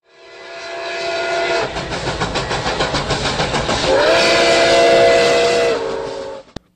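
A train rumbles steadily closer with rhythmic clacking of the wagons, punctuated by two long, loud steam-style whistle blasts, the second rising in pitch as the train nears.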